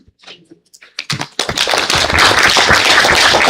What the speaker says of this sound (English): Another round of applause for our panelists.